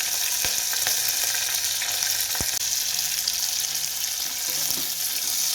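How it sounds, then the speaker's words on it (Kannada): Onions, green chilies, curry leaves and mint leaves fry in a pan with a bright, constant sizzle close up, punctuated by a few sharp clinks of a stirring spoon. "ಈಗ ಇದೊಂದು ಸ್ವಲ್ಪ ರೋಸ್ಟ್ ಆಗಲಿ, ಅಂದರೆ ಹಸಿ ವಾಸನೆ ಹೋಗೋವರೆಗೂ ಅಷ್ಟೇ."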